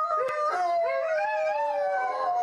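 A dog howling inside an apartment in Mozhaysk, near Moscow, a long, loud, wavering howl that rises and falls steadily for the whole stretch, close and unaccompanied.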